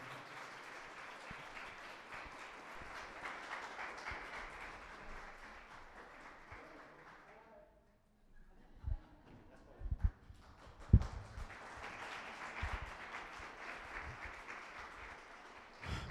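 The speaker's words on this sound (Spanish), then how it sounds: "quiero pedir un fuerte aplauso a la gloria de Dios por la vida del pastor Carlos Torres" A church congregation claps in a moderate, fairly distant round of applause that fades out midway, followed by scattered knocks and footsteps before a second swell of clapping.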